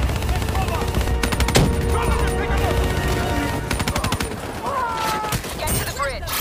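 Sustained automatic gunfire from a Call of Duty: Black Ops 3 battle, dense bursts and volleys rattling continuously at moderate loudness, with game voices talking over the shooting.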